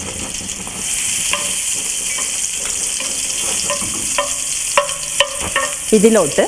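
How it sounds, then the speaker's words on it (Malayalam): Ground spice paste sizzles steadily in butter in a hot skillet for butter chicken, with stirring scrapes and a few utensil clinks near the end, and a voice briefly speaks over it. "ഇതിനി ഒരു സ്കില്ലറ്റിലോട്ട് 1 ടേബിൾ സ്പൂൺ ബട്ടർ ഇട്ട് ചൂടാക്കുക."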